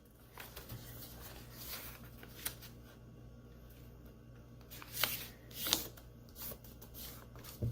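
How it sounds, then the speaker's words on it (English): Paper being creased and folded into an origami dragon, soft rustling and crinkling close by with a few sharper crisp folds, quiet and without talk. "So here we're going to fold this down."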